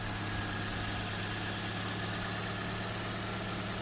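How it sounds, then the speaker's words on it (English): A 2010 Toyota Yaris with a 1NZ-FE engine idles steadily with a low, even hum and faint mechanical ticking, close and constant throughout. "This is the 1NZFE engine."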